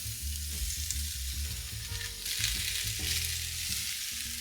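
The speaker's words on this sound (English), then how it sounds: "So we'll go ahead and add in our garlic now. Throw that in. We'll stir that around a little bit." Garlic tossed in with softened onions sizzles steadily in a pan while a utensil stirs through it, a constant moderate frying hiss with faint scraping and no voices.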